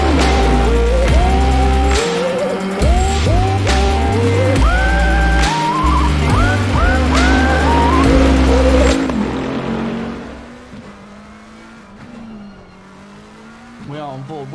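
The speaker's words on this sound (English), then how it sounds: "Hear the engine rev up." A McLaren race car engine in a British GT racing game revs and shifts through gears in rising, repeated pitch sweeps, loud and close, then drops to a lower idle-like drone with faint talk underneath.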